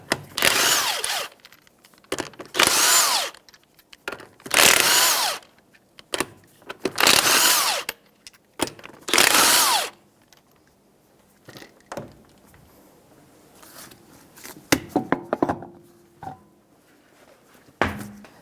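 Five loud bursts of an impact power tool with a 19mm socket spinning off the front wheel lug nuts of a 2014 Jeep Compass, each lasting about a second, separated by short pauses, followed by quieter clinks and handling noises.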